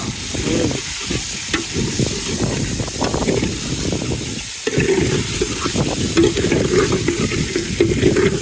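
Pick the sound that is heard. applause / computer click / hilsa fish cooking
hilsa fish cooking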